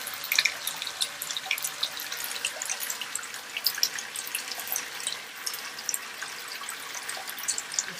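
Hot water runs steadily from a tap to fill a tub for an Epsom salt soak, a continuous soft splashing hiss with no voices.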